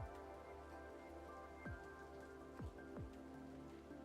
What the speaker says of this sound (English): Oh no, the rain sounds.